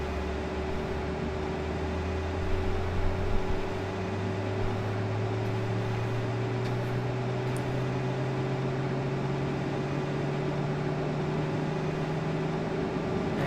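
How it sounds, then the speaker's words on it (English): The second engine of an Embraer E190 spins up in the FSX flight simulator, a steady jet whine and roar with a low tone slowly rising in pitch as the engine spools toward idle, heard alone at constant loudness. "That was engine 1. Now engine 2 is coming online."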